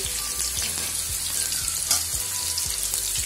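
Crispy chicken pieces shallow fry in oil in a pan, a loud, steady sizzle and hiss with soft low thumps recurring at a regular pace. No one speaks.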